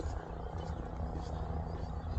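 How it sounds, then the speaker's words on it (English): A helicopter passes over a beach, a steady low rotor rumble that stays fairly faint and constant against the surf-side background. "Oh, there's a helicopter."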